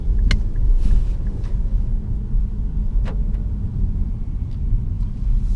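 An Infiniti Q60 Red Sport 400 coupe on the move, heard from inside as a low, steady road rumble with a few light ticks and knocks over the drone.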